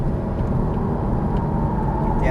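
A Porsche Cayman S on a race track, its engine running loud and steady at close range through shifting, braking and turning, with someone talking over it.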